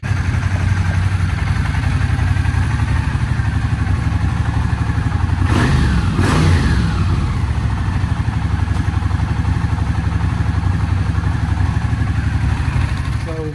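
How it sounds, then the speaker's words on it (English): A Honda GL650 motorcycle engine runs steadily, idling with a rough, throbbing rumble and mechanical clatter, close by and loud. A brief rev-like swell comes near the middle. No one speaks. "started the bike up, and it ran like a dream"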